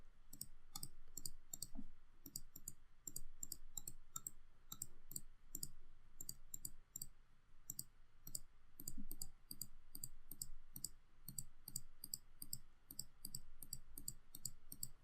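Rapid keyboard and mouse clicking while a game is being built, a dense stream of sharp taps in quick irregular bursts, close and steady with no talking.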